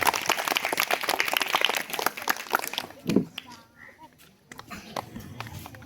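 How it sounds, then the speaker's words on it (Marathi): A crowd claps hard for the winning quiz team at a Zilla Parishad school in Edlapur, Akot: dense, loud clapping for about three seconds that then thins out into scattered claps and voices. "जोरदार टाळ्या वाजवा."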